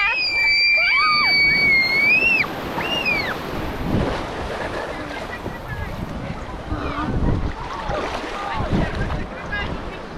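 Sea waves wash and break against the shore amid gusty wind, with shrill children's shrieks and squeals at the start and voices further off.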